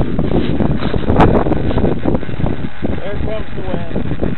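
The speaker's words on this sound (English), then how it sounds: "There comes the wind." Gusty wind buffets the microphone outdoors while a small flycamone model aircraft is flown, a loud, constant low rumble with rustling and a faint whine beneath, and a voice speaks partway through.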